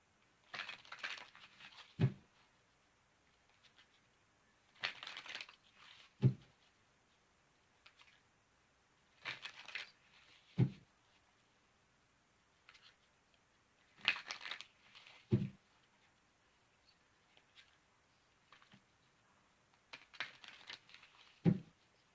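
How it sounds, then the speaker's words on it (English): Tarot cards are riffled and shuffled in five separate bursts, each a quick papery flutter ending in a soft tap, with quiet pauses between. "So give me a moment while I shuffle."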